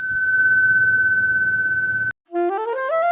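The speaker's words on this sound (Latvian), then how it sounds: "bell." A small bell rings one clear, sustained ringing tone for about two seconds before cutting off, followed after a brief silence by a quick run of rising electronic notes.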